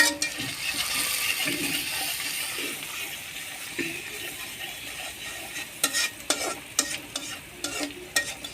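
Meat is stirred and fried in a pan with salt, turmeric and chili powder, a spatula scraping steadily over a soft sizzle, with sharper clinks and scrapes bunching toward the end.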